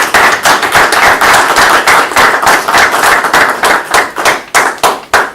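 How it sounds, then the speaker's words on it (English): Audience at a town council meeting in Fanwood applauds a nonprofit meals-delivery organization, a loud, dense run of hand clapping with distinct claps that carries steadily for several seconds, then thins into separate claps near the end. "Please give them a nice round of applause."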